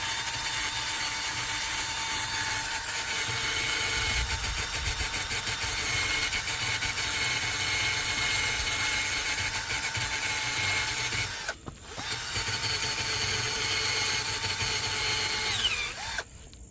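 A loud power tool whines and grinds steadily and continuously on a metal car wheel rim of a 2015 Ford Taurus SHO, with one brief drop-out near the end before it picks back up.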